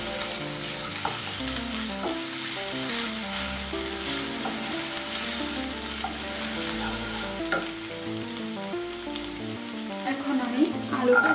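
Onion and ginger paste frying in a pan for singara filling, a steady close sizzle with scraping stirring throughout, over a low hum, with no talking.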